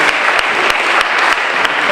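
A crowd audience at the 2018 Massachusetts gubernatorial debate claps loudly and steadily, a dense, even wash of applause with no voices.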